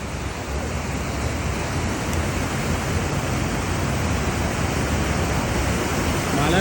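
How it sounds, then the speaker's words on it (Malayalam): A waterfall pours down a hillside near Cheddar, Somerset, a loud, continuous broadband roar of falling water that holds steady and swells slightly toward the end. "അപ്പോൾ ഒരു വെള്ളച്ചാട്ടം കണ്ടോ, അത് മലേൻ്റെ മേലെ നിന്നിരുന്ന വെള്ളച്ചാട്ടം കേട്ടോ"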